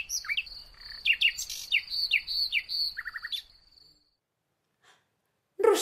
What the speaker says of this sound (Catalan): va arribar volant a la seva finestra el rossinyol.